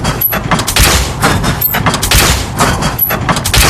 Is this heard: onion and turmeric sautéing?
no